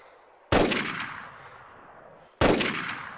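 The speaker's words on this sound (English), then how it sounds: "That's me shooting." Two loud, close gunshots from the player's own weapon in the survival game DayZ, about two seconds apart, each with a sharp crack and a ringing decay, with no talk.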